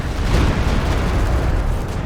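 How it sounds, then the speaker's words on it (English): Rocket artillery explosions in Company of Heroes 2, a dense, loud rumbling barrage of booms merging into a continuous roar. "Great rocket artillery from the Axis again"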